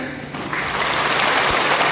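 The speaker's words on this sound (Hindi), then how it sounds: "ये जोर से ताली बजाइए।" An audience at a general meeting in Dimapur, Nagaland bursts into dense, loud applause that swells and holds steady, with many hands clapping together close by.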